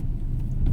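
Brief low rumble of heavy road traffic, cars and engines murmuring together in a busy street, a short dense swell of motor noise without speech.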